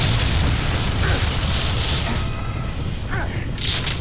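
A deep, rumbling explosion in the game 007 Quantum of Solace booms loudly, followed by crackling, shifting noise and debris-like rumble.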